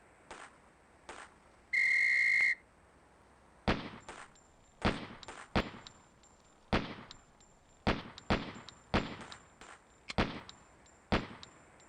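Whistle blown as the start signal in the Police Quest SWAT combat drill, a single sharp shrill blast lasting under a second, followed by a rapid irregular series of loud gunshots.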